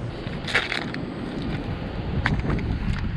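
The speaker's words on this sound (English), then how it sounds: "You get a lot of really blustery days. Today's one of them." Blustery wind buffets the microphone on open water beside a kayak below a dam, a steady low rumble with gusts swelling now and then and no voices.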